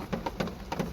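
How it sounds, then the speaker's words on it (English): Rain falls steadily outside, a soft continuous hiss with faint rhythmic pattering on a surface. "This rain is ruining my filming."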